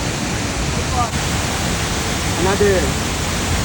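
The Seven Falls waterfall gives a steady broadband rush of falling water, fairly loud and continuous, with people's voices briefly heard over it.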